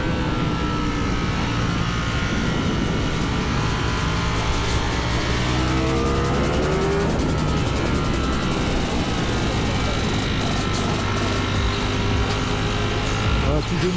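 A Ducati Streetfighter V4S motorcycle engine revs steadily while the bike is ridden, a loud, continuous close drone with rising and falling pitch sweeps and heavy wind noise throughout.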